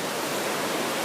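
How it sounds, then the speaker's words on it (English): Fast-moving water rushing over a waterfall at Scotts Mills Park, Oregon, a dense, even hiss of white water that fills the whole moment, close and steady with no voices. "So you got more rushing water, and this water moves. This is a fast-paced water,"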